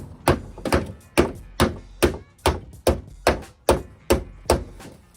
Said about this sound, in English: let's just go with the bigger hammer